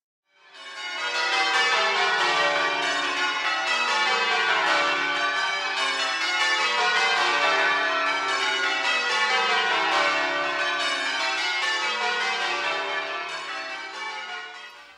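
Church bells of the Minster Church of St Cuthburga in Wimborne Minster ring loudly and continuously, overlapping peals filling the air for the whole stretch with no speech.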